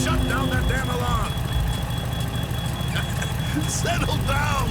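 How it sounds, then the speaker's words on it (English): In the Thief of Thieves video game, a continuous electronic alarm tone rings steadily behind a low engine rumble while people talk loudly over it. "Someone shut down that damn alarm!"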